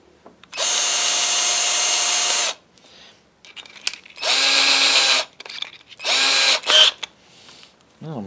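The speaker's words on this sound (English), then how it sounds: "I'm going to cut a chamfer in my pick guard now where that hole is using a chamfering bit." A power drill with a chamfering bit cuts into a hole in a Telecaster guitar pick guard: three close, sharp whirring bursts separated by short pauses, with small clicks and handling noises between them.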